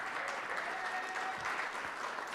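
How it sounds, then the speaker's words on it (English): Brief crowd applause for Chicken Eddie at the Okie Awards, a short burst of even clapping at a moderate, fairly distant level without voices. "round of applause for Chicken Eddie"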